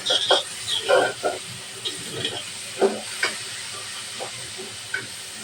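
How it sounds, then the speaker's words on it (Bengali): Chopped onions sizzle while they fry in oil for a spinach and shrimp curry. The soft, uneven crackle in the pan sits under intermittent talk. "পেঁয়াজটাও ভালোভাবে ভাজানো নেব"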